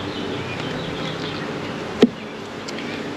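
A dense, steady buzzing of many honey bees bringing in fresh nectar fills the air continuously, close and loud, with a brief louder knock partway through.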